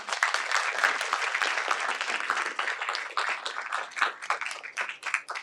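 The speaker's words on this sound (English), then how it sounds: "Let's have a round of applause for our speakers." An audience claps steadily for speakers at the close of a public health grand rounds session on pathogen genomics, dense and sustained applause with no voices over it.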